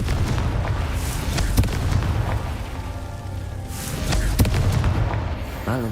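Confringo blasting-spell explosions in the Hogwarts Legacy video game, heavy booming bursts with rumbling tails amid busy game noise, a couple of sharper hits standing out, loud and close, with no talking.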